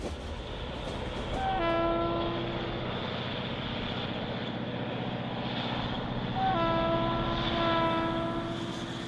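A train rumbles steadily along a railway in Turkey near Adana, with two long horn blasts sounding over the continuous rolling noise of the wheels on the rails.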